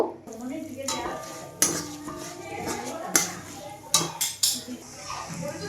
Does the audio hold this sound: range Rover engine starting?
no